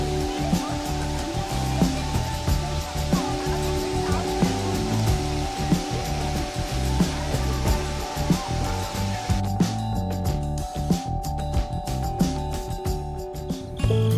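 Continuous rushing roar of falling water at Erawan Waterfall, Kanchanaburi, Thailand, steady and fairly loud throughout, with a faint tonal hum running underneath.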